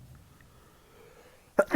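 A single sharp sneeze bursts out near the end, loud and close after near silence, from a person playing Call of Duty Mobile.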